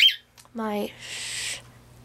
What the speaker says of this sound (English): sorry about the bird.